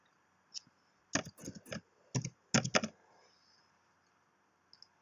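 Typing on a computer keyboard, with bursts of quick clicking keystrokes in short clusters separated by pauses, close and crisp in an otherwise quiet room.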